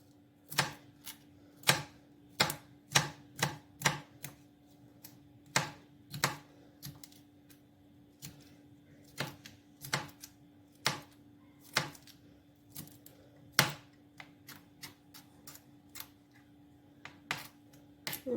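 A knife chops long strips of grated carrot on a cutting board for a Spanish omelette, giving sharp, crisp knocks in uneven bursts with short pauses between them, heard close and alone against a faint steady hum.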